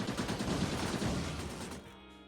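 Turret gunfire in an action roguelike video game, a dense rapid burst of shots that rattles continuously for about two seconds before cutting off.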